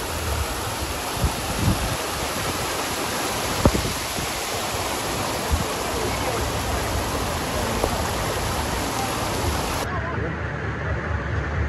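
Rushing water from a sudden waterfall spilling onto the Batu Jomba road after heavy rain and a landslide, a continuous loud close roar with small knocks, dropping off near the end.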